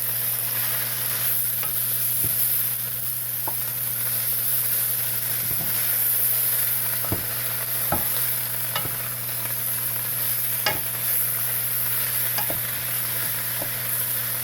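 Greens frying and wilting in a pan while being stirred and folded over, a steady hissing sizzle with occasional light utensil taps and scrapes, close by and without speech.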